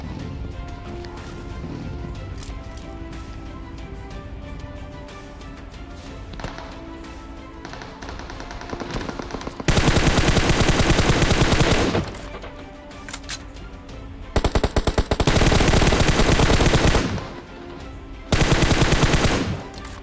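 Automatic gunfire from a PUBG Mobile match, played on a Redmi Note 8 Pro, comes in three loud sustained bursts over the second half, preceded by quieter scattered shots and game ambience.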